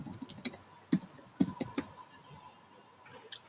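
Quick bursts of keystrokes on a computer keyboard as someone types into a search box during a software demo, with a few sharper clicks and short pauses, close and clear.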